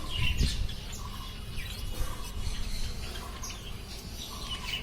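Budgerigars chirp and squawk at a crowded bird market, many small birds twittering steadily over a constant background din.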